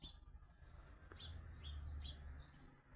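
Bird calls repeat as short, high chirps over a low background rumble, at moderate distance.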